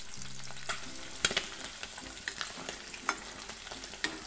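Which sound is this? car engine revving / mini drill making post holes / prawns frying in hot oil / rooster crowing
prawns frying in hot oil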